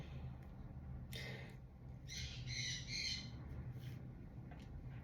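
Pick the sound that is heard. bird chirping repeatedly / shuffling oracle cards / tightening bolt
bird chirping repeatedly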